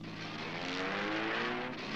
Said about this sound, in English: We got into the car and roared off.